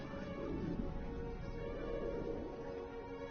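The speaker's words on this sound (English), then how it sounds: "Thou shalt pet the kitty cat though." A cat meows in The Forgotten City video game, faint and low beneath a dense, steady bed of game ambience and music that fills the whole stretch.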